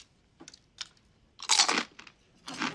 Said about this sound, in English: crunch is kind of echoing through the kitchen, isn't it?